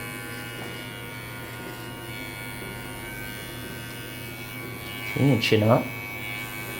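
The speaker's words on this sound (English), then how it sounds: "Now I'm going to kind of shape it with the machine." Electric trimmer shaping a beard, giving a continuous close buzzing hum. Someone speaks briefly near the end.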